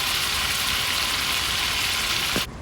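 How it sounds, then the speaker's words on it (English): Loud, steady sizzling of garlic frying in hot oil in a pot, a dense crackling hiss that cuts off abruptly near the end. "see what happens when the pot gets hot? You see like sizzling"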